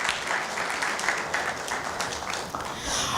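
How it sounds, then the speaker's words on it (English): After a tech demo, the audience claps in a lively, fairly close round of applause, with individual claps audible in the dense patter before it thins slightly at the end. "Please give him another round of applause if you did."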